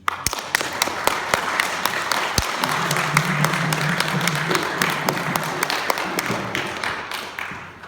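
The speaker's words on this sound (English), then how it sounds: "give a nice round of applause for Kathryn and Qin Qian" Loud, close audience applause at a concert for Kathryn and Qin Qian, dense steady clapping with a few sharp individual claps, holding for several seconds before tapering off.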